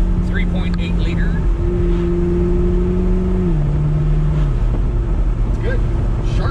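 A McLaren MP4-12C with a 3.8-liter twin-turbo V8 drives along with a steady loud engine drone whose pitch rises and then falls, over a constant road rumble inside the cabin.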